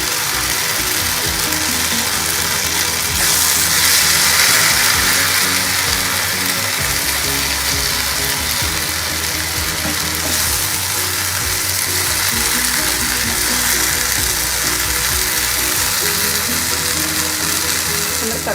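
Mint and coriander leaves sautéing in a pan with tomato, a steady broadband sizzle with occasional stirring scrapes, continuous and fairly loud throughout.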